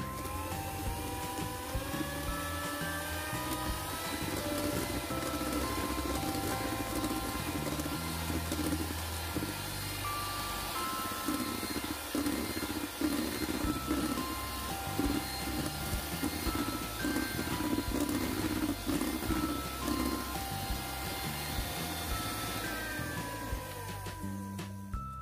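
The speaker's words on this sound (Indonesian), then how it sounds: "Oke, kita mixer dengan kecepatan paling tinggi sampai putih kental berjejak" An electric mixer running at its highest speed, beating cake batter until thick and pale, a steady continuous whir with shifting tones that runs unbroken for the whole stretch and stops abruptly at the end.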